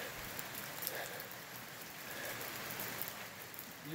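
Water falls off a conglomerate rock cliff into a creek in Laurel County, Kentucky, a soft continuous patter like steady rain heard from nearby, faint and even throughout with no voices.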